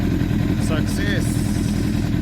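A 2004 Honda CBR1000RR sport bike, its idle control valve just repaired, idles steadily and loud up close with an even, low throb while someone talks over it.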